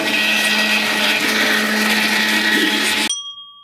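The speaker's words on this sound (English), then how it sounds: "Blend it. Blend it real good." An electric blender whirring loudly and steadily as it purees apple chunks, then switching off abruptly near the end and leaving a short fading hum.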